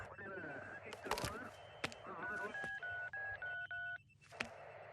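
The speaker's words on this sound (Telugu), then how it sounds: "ఫోన్ చేయవయ్యా." Series of short electronic keypad tones as a telephone number is dialed, about six evenly spaced beeps after some rustling and clicks, heard close and fairly quiet.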